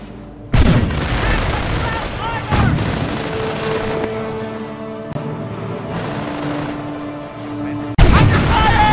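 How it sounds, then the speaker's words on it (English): Heavy gunfire and booming explosions in a Company of Heroes battle hit in several loud sharp blasts with ringing tails, separated by rumbling battlefield noise and a steady tone in between. "Base is under enemy fire."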